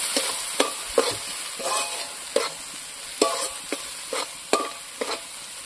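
Spices with salt and turmeric frying in a pan make a close sizzle broken by repeated rhythmic scrapes and knocks of a spoon stirring against the metal, without any speech.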